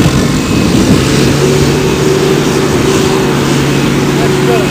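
A small homemade wind turbine propeller whirs as it spins up after being unshorted, a steady mid-range drone and hum under continuous outdoor wind noise, with faint tonal whine rising slightly.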